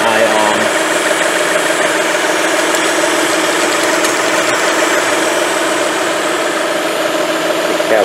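A car engine idling steadily during a diagnosis of a camshaft position sensor circuit high input fault (code P0343), a loud, close, even mechanical hum with faint ticking and no breaks.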